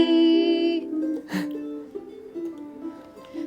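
A ukulele plays a short sequence of single plucked notes that step through open strings and fretted third-position notes in a beginner pentatonic exercise, clear and close with ringing decay.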